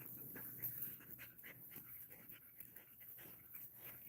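A Great Pyrenees dog pants rhythmically on a warm day in northern Arizona, with quick, faint, close breaths repeating steadily and no voices.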